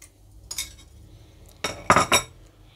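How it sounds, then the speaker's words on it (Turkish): A metal dessert spoon scrapes and clinks against a bowl while coarse lemon salt goes into cracked olives, with one faint tap and then a few sharp scraping clinks close by. No one speaks. "Sonrasında yine bir tatlı kaşığı limon tuzu ilave ediyorum."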